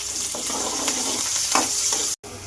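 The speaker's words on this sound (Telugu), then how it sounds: "ఇంకా తాలింపు అయితే బాగా వేగిపోయింది" Onions, curry leaves and green chillies sizzle steadily in hot oil for a tempering, a close continuous frying hiss with a few soft stirring scrapes and a short cut near the end.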